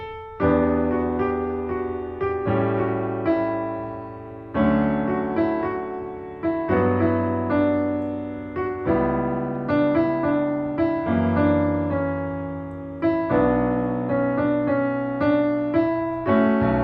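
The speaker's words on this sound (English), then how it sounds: "harmonize it with like an off-the-shelf circle of fifths progression" A descending melody is harmonized with a circle of fifths chord progression, a sequence of sustained chords struck roughly every second or so over almost seventeen seconds, played alone without talk.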